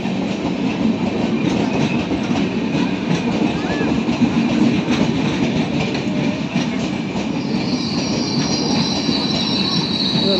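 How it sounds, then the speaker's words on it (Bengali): Train pulling into a railway station with wheels squealing, a steady loud rumble of rail cars and a high metallic screech rising near the end, over crowd ambience. "এই দেখো একটা ট্রেন ঢুকলো।"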